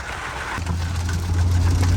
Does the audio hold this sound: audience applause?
no